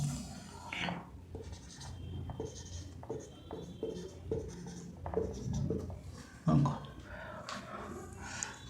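Pen or marker writing out a matrix example on a board, a run of short scratchy strokes and taps, close and moderately loud, with faint breathing and movement between the strokes.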